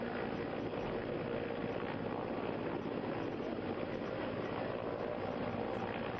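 An Indian Air Force helicopter flies a flood rescue. Its rotor and engine give a steady, dense whir that holds an even, moderate level throughout, with nothing else standing out.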